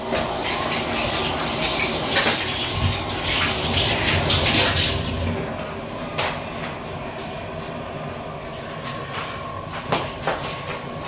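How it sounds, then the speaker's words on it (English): Hands are rinsed under a running kitchen tap after scooping orange pumpkin pulp, a steady close gush of water with splashing shifts and small knocks throughout. "I'm going to just wash my hands real quick."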